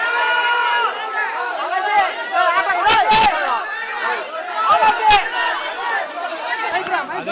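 A crowd of fans outside Rajinikanth's house shouts Happy Diwali greetings, an excited babble of many voices with rising cheers and bursts of shouting, fairly loud and close.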